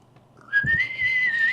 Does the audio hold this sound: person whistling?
yes